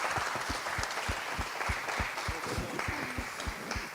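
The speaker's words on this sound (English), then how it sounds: "Big round of applause for Yemi, please." Audience applause at an awards ceremony as Yemi, a judge, is welcomed, a lively crowd clapping with distinct claps sounding fairly distant and moderately quiet.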